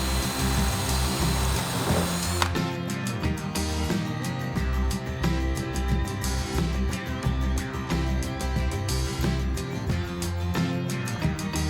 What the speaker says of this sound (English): drill a 5/16-inch hole